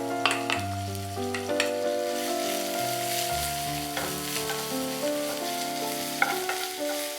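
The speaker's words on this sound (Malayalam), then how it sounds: "നമുക്കിനി അതേ നെയ്യിൽ തന്നെ ഒരു മീഡിയം സൈസ് സവാള ഇങ്ങനെ നീളത്തിന് തിന്നായിട്ട് കട്ട് ചെയ്തത് നല്ലോണം ഫ്രൈ ചെയ്ത് എടുക്കാം." Sliced onion fries in ghee for mutton biryani, giving a continuous hiss with scattered stirring clatters, while steady background music with sustained tones plays underneath.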